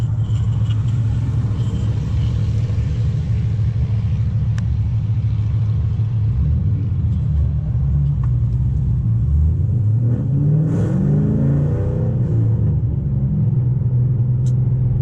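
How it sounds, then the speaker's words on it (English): Twenty-year-old Trans Am F-body muscle car heard from inside the cabin with the window rolled down: a steady, loud, deep exhaust drone that swells briefly as the car accelerates near the end. "Let's roll the window down, see if we can get a little exhaust note."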